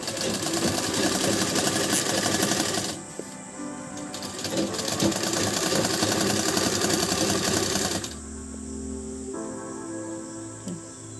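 A sewing machine stitches a sleeve onto a blouse in bursts of rapid whirring, loud and close, stopping and restarting with short pauses between runs.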